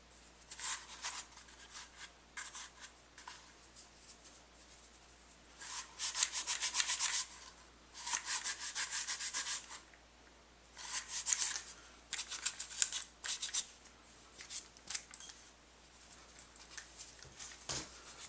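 Cleaning inside the magazine well of a KelTec SUB2000 rifle, close, dry rubbing and scrubbing strokes in irregular bursts, some brisk and dense, separated by short quiet pauses.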